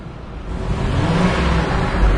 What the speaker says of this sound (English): if I accelerate, you really feel the engine